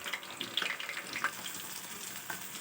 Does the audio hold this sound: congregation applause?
no